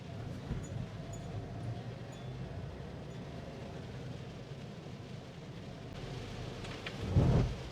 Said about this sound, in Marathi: प्रचंड पाऊस आहे इकडे